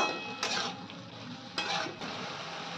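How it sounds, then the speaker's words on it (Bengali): Egg chicken fried rice seasoned with black pepper is stirred in a pan, giving a steady frying sizzle broken by two sharp scraping, clattering strokes of a utensil against the pan. "দিয়ে দিচ্ছি একটু গোলমরিচ, এবার একসঙ্গে এটা মিনিট দিয়ে নাড়াচাড়া করে নেব।"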